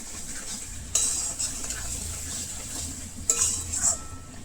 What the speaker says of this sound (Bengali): এটা একটু নেড়ে দিলাম আর দিয়ে দেবো একখানা কভার।